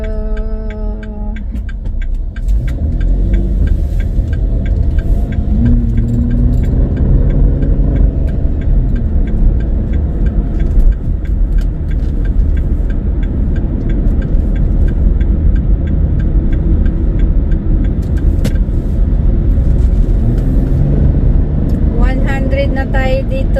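Steady road rumble and engine hum from a car cruising at highway speed on a sunny day near Cranbourne West, Australia, with someone talking over it nearly throughout.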